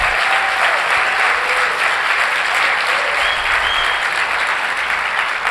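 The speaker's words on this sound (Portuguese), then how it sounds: "Dá um aplauso ao Senhor." A church congregation applauds steadily and loudly throughout, a dense, continuous wash of clapping from many people with no break.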